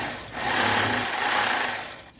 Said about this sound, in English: sew a little bit